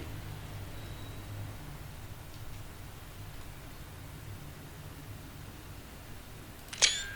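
A camera shutter snaps once in American Truck Simulator, a single crisp click near the end over a low, steady background hum.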